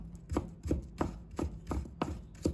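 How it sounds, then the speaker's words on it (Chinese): A knife chops ginger slices into shreds on a cutting board, a steady run of about seven crisp, evenly spaced thuds, close by and alone. "再准备1块的生姜，把它切成薄片，然后改刀切成丝。"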